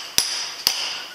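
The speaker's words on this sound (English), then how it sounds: "Always use a brass hammer so that you don't peen over the square hole" Two sharp, close metallic strikes from a brass hammer driving a part down, each ringing briefly at a bright pitch, about half a second apart.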